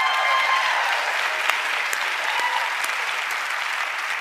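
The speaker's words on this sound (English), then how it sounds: "Why are we clapping for that?" A talk-show studio audience claps steadily and fairly loudly for the full stretch, forming a dense, even wash of applause with no clear breaks and no talk standing out.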